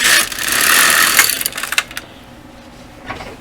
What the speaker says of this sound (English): Knit one row.